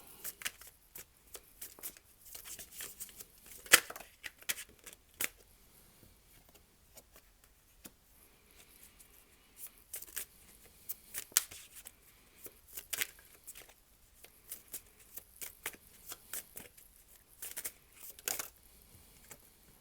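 Tarot cards being shuffled by hand at close range, with soft, faint papery riffles and taps coming in short irregular bursts in an otherwise quiet room, no talking.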